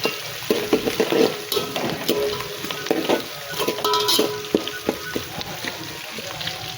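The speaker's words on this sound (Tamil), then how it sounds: "கருவேப்பிலை போட்டு நல்லா வெங்காயம் நல்லா செவக்க வதங்கின சின்ன வெங்காயம் பூண்டு எல்லாமே வதங்கினா தான் டேஸ்ட்டு நல்லாயிருக்கும்" Shallots, garlic, curry leaves and dried chillies sauté in hot oil for Chettinad chicken gravy, a close crackling sizzle punctuated by repeated clinks and scrapes of a spoon against the pan.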